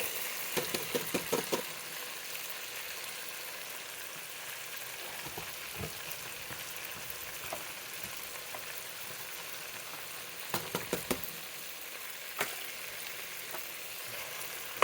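Onions and celery frying in a stick of butter for she crab soup give a steady, moderate sizzle throughout, with a few clattering bursts of stirring near the start and again toward the end.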